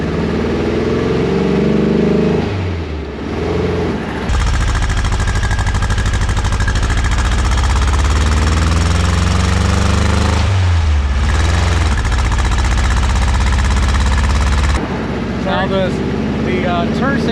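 A 1972 George Barris C Cab T Buggy engine drones steadily while driving along in traffic, a loud low rumble with wind noise that dips briefly and shifts near the end.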